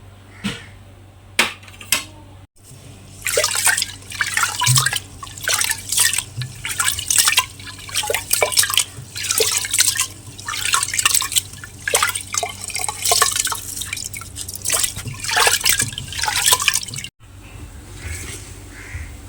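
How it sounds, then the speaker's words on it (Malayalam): Repeated splashing and swishing of rice being rinsed in water, in uneven bursts with brief pauses, close by and without speech. "ആ സമയത്തേക്ക് അരി കഴുകി വരട്ടെ"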